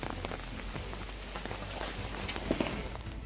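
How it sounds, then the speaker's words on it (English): Heavy rain falls steadily across a surface in northern India, a dense, even patter of close drops with a few sharper taps, moderately quiet and continuous without voices. "Northern India was battered by heavy rains, triggering dangerous landslides."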